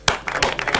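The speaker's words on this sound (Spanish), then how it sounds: "Alvin y Jorge aplauden esta medida" People clap their hands in a television studio, a short burst of scattered, uneven claps close to the microphone, with no talking.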